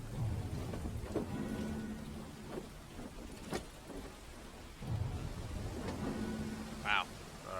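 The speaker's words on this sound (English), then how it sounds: "That's hell of a storm." Thunderstorm with heavy rain in The Sinking City video game: a steady wash of rain, with thunder cracks and rumbles bursting through, and a voice talking now and then over it.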